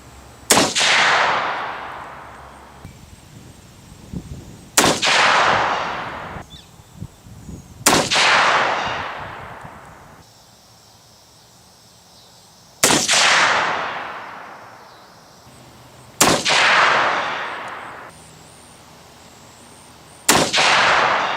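Six loud, sharp reports from a 7mm-08 handgun firing 162 gr AMAX and 175 gr Game King loads, each followed by a long echoing decay, spaced a few seconds apart.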